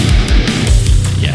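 A single quick, glitchy heavy metal guitar note, loud and distorted, stuttering in short choppy bursts over a thick low end for about a second and a half.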